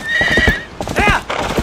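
A horse in the video game Zelda Twilight Princess, loud and close: quick clip-clop hoofbeats, then a shrill whinny, then more hoofbeats.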